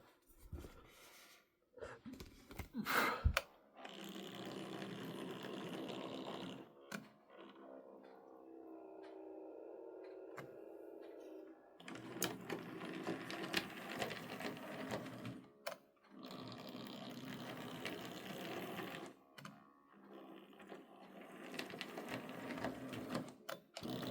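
Small electric motor of a restored Stanier Mogul model locomotive running on a layout, a thin steady whirring drone that rises and falls in long stretches with short quiet gaps between runs.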